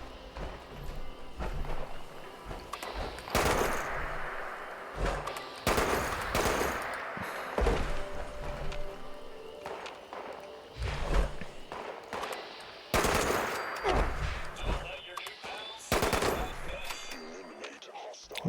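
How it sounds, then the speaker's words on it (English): Enemy gunfire in the video game Fallout 76, heard as rapid bursts of shots and rattling automatic fire that come and go at a fairly low level, mixed with other game sounds and a voice talking. "what's shooting you?"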